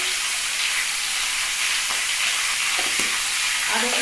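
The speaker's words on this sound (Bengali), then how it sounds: "পেঁপেটাকে একটু ভালো করে ভাজতে হবে" Papaya pieces with salt frying in a pan for a potato and papaya curry, a loud, even hissing sizzle throughout with a few faint spoon scrapes near the end.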